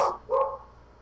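A small black corgi and Labrador mix dog gives two short, sharp barks close by, the second slightly longer, then falls quiet.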